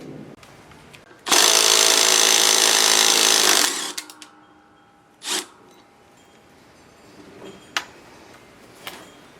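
A 9/16 bolt on a Cub Cadet 833E mower spindle being driven out with a socket: a loud, steady power-tool whir for about two seconds, then a short burst and a few light metallic clicks, close and without speech.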